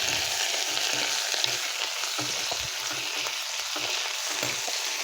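Onion and tomato sauté for bitter gourd kuzhambu, sizzling and crackling in an even, dense hiss from a nearby pan, steady throughout with no talking.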